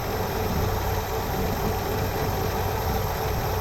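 A 1966 Chevrolet Nova engine with a Rochester BV carburetor idles steadily up close while warming up, a continuous rough rumble with slight knocking vibration and no pauses.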